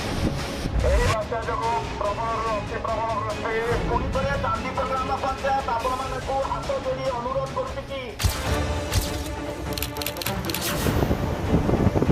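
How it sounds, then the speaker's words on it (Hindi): Heavy rain and strong wind in a storm, a steady roaring wash with wind buffeting the microphone, continuous and loud throughout, shown in a news report. "कितनी तेज बारिश हुई है और कितनी तेज हवा एक साथ।"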